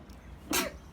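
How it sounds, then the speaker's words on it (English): A single short, sharp sneeze bursts out close to the mic, a quick noisy blast about a quarter second long over a quiet room background. "that third sneeze was because I held in the second sneeze"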